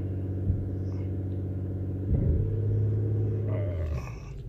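The engine of an Infiniti Q50 AWD car holds a steady low rumble near 2000 RPM, then is given gas and swells into a slightly louder, deeper roar before easing off. Nobody speaks.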